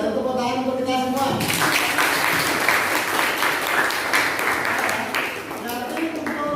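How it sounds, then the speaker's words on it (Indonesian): A high-school class applauds at the end of an economics lesson, a burst of many hands clapping together after a brief voice, filling most of the moment before fading slightly under renewed talk. "Dan tepuk tangan untuk kita semua."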